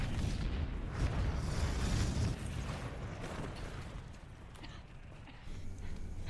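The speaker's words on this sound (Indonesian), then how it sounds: "ledakan pun terjadi dengan cepat" Explosion in the zombie action film Resident Evil: Apocalypse (2004), a dense, loud rumbling blast that fills the scene continuously and tapers slightly, mixed with film soundtrack noise.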